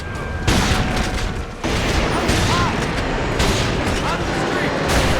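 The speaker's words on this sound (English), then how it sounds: "The incendiary upgrade replaces normal buckshot rounds." A shotgun in a first-person shooter video game fires incendiary rounds in loud, booming blasts with roaring flame noise between shots, dense and close, while a voice talks over it.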